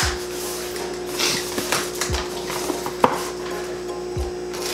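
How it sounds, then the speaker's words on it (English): Someone cuts open a cardboard box, making scraping and tearing strokes with a few sharp knocks and thumps close by, at an uneven pace, with no talking. "I think I'm just gonna have to cut the box."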